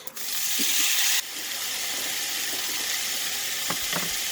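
Potatoes dropped into hot mustard oil with curry leaves for a Bengali-style fish curry, giving a loud, steady frying sizzle with a brief burst at the start and a few stirring clinks near the end.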